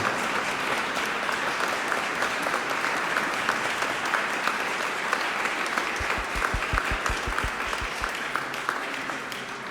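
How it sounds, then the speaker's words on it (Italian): Concert audience applauds the musicians after a live performance in Villorba, a dense, steady wash of clapping across the whole stretch, with a short run of low thumps near the end. "penso che gli applausi non devono finire per loro"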